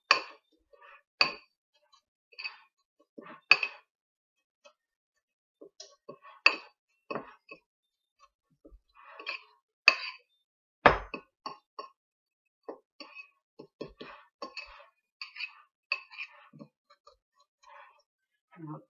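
A fork stirs cheesecake crust crumbs and two tablespoons of flour in a bowl, making light, close clinks and taps in scattered, uneven bursts.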